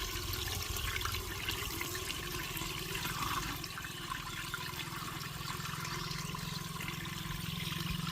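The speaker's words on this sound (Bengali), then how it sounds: "জল ভরা হচ্ছে পাইপে" Water rushing into an irrigation pipe for a potato field fed by a shallow pump machine, a steady, fairly quiet gushing flow without pauses and no talking.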